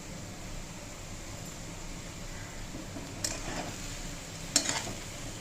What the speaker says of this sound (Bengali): এবার চাল ডাল আর আলু আর ফুল সমেত ভালো করে নাড়াচাড়া করতে হবে